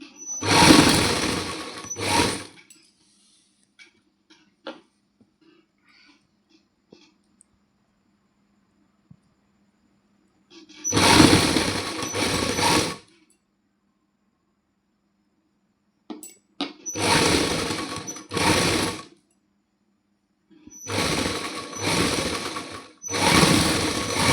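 A sewing machine attaches lace trim to a suit in four separate short bursts of rapid stitching, with long quiet gaps between them broken by faint clicks and handling sounds.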